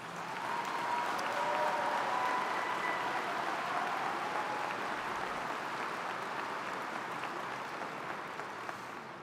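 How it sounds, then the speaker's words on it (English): Sustained applause from a large audience at a university commencement, a dense even patter of clapping that holds steady and slowly tapers toward the end. "let's give them a round of applause."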